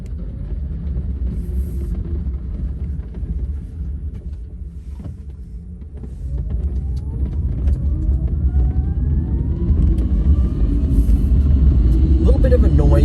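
Electra Meccanica SOLO electric car pulling away in a quiet neighborhood, with a thin motor whine rising in pitch over steady road rumble, growing louder as it accelerates.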